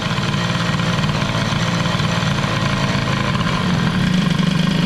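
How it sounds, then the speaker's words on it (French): A Peugeot 103 moped with an air-cooled hybrid setup idles close by with a steady, buzzy two-stroke drone that slightly rises and drops in revs, and no other sound over it. "le moteur, bon, il chute en régime"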